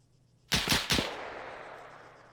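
WWII-era gunfire in the video game Arma 3: three sharp shots crack in quick succession, then a long echoing tail fades out over a quiet background.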